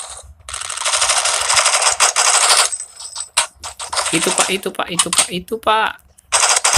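Gunfire rings out in the mobile shooter game Forward Assault, with bursts of rapid automatic shots separated by short pauses. Someone talks between the bursts and over some of them.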